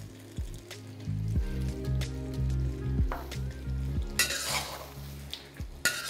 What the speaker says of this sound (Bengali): আর বাদাম দেওয়ার পরে একবার ভালো করে এইভাবে মিশিয়ে নিন